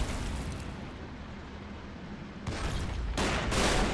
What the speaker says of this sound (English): enemy artillery getting very close to engaging us